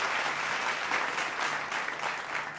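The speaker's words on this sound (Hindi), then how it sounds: "एक बार इनके लिए तालियां बजा दीजिए आप सभी लोग" Studio audience on a political television show clapping together, a steady, full wash of applause at moderate loudness with no talk.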